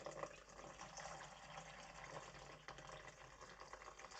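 Water pours steadily into sourdough roll dough made with soybean powder, a constant close hissing splash that runs without a break and with no voices.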